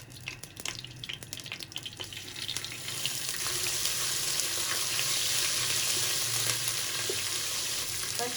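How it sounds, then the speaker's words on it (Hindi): A spoonful of ginger garlic paste fries lightly in a pot with cloves, cumin, cardamom and cinnamon for mutton dal gosht, starting as a soft sizzle and swelling after a few seconds into a louder, steady rushing hiss. "बस हल्का सा फ्राई करेंगे अदरक लहसुन को।"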